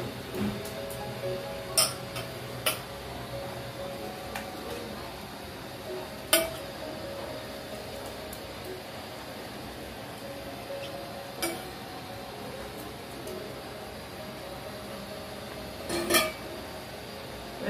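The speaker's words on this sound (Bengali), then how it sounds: "এবার আমি যে লাউটা বসে রেখেছিলাম সেটা আমি দিয়ে দিচ্ছি এর মধ্যে।" Chopped bottle gourd goes into milk boiling in a pot for village-style lau payesh, with sparse metallic clinks and taps of a utensil against the pot over a low, steady background hum.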